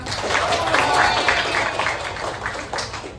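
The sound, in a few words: class applauding a student named Ilsa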